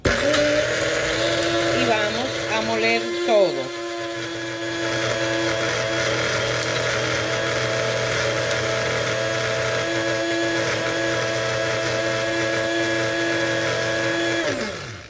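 An electric blender grinds egg and other ingredients for a homemade face mask. A loud, continuous motor whine runs nearly throughout, with a brief uneven stretch early on before the pitch settles.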